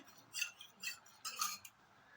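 A spoon stirs cornflour into a little water in a small bowl, with several quick scraping clinks in short bursts, close and fairly quiet with no talking.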